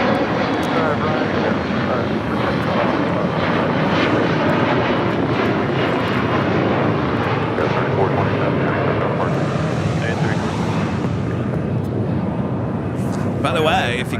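An airliner takes off at Los Angeles International Airport with a loud, sustained roar of engines that swells and holds throughout, with a voice speaking over it.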